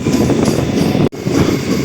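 A MEMU passenger train rolls steadily on rails through a station without stopping, a continuous loud rumble with rhythmic wheel noise and a brief dip in the middle.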